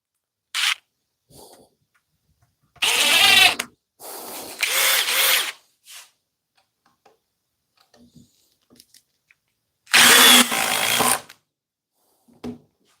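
A cordless impact driver sinks a 5-inch lag screw in three loud bursts of rapid hammering, each a second or so long, separated by quiet pauses and a few faint clicks.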